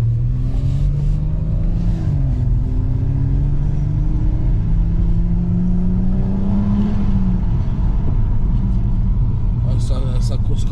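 A BMW M140i with a Remus exhaust, its engine droning and rising in pitch as it revs while driving, loud and steady with voices talking over it.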